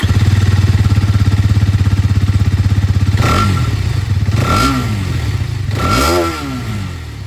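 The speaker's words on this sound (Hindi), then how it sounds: "अब मैं आप लोगों को यहाँ पर जो एक्सट्रीम की आवाज़ है 250R की ये भी सुना देता हूँ।" A Hero Xtreme 250R motorcycle engine idles with a loud, close, rapid thumping beat, then revs three times in quick rising blips before settling back.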